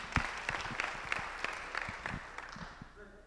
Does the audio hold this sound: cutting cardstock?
no